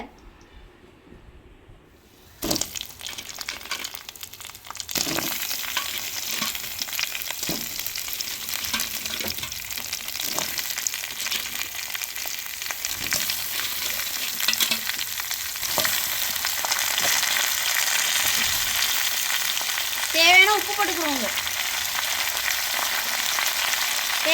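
Crab sizzling and frying in a pan, with steady sizzle after a quiet start and occasional stirring scrapes, loud and close throughout.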